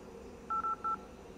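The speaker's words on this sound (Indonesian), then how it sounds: "Coba telepon dulu." Three short, clear keypad dialing beeps come from a Redmi 9 smartphone, tapped in quick succession over a faint, quiet room background.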